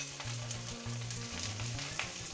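Mashed ripe olives with coriander leaves stirred in hot oil in a pan, giving a steady, close sizzle with soft scraping of the spoon, fairly quiet and continuous.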